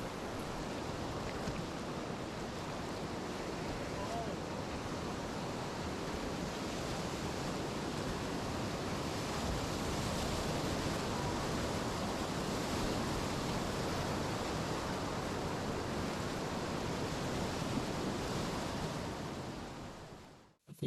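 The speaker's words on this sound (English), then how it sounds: "This rapid's pretty sick." A Class 4 whitewater rapid on the Middle Fork Salmon River roars in a steady, loud, dense rush of churning water that continues unbroken before cutting off abruptly.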